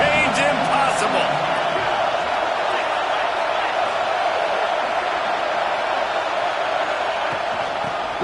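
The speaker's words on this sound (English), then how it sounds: "the Husker faithful getting loud, trying to make movement change impossible" Nebraska Husker football fans roar in a packed stadium on third down in the red zone, a broad sustained crowd din filling the whole stretch, with an announcer's voice talking over it at the start.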